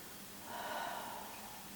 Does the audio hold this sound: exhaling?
yes